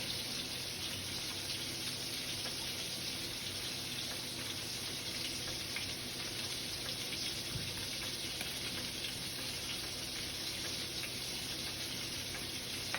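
Melted cheese poured into a pot of macaroni, giving a steady, soft, broadband hiss and sizzle that runs evenly throughout with no speech.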